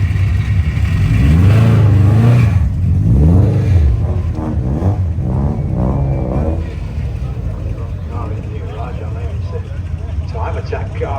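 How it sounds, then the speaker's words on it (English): A time attack car revs and accelerates hard at a drag strip event at Santa Pod, its engine loud and close at first before fading as it pulls away, with people talking over it. "Time attack car in the left-hand lane."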